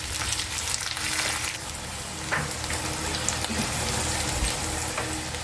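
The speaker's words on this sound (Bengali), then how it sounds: "সবগুলো একসঙ্গে ভালো করে ভাজবো।" Chopped onions and vegetables fry together in a pan, giving a constant hissing sizzle with occasional crackles and stirring scrapes, close and steady, with no talking.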